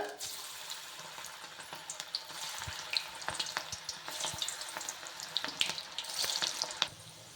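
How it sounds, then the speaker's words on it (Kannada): Cabbage bondas sizzling in hot oil over a low flame, a steady close crackle and hiss with occasional sharper pops. "ಇದನ್ನು ಸ್ವಲ್ಪ ಕಮ್ಮಿ ಉರಿ ಮಾಡಿಕೊಂಡು ಇವಾಗ ಇದನ್ನು ಈ ಬೋಂಡ ಹಾಕ್ಕೊಳ್ಳೋಣ"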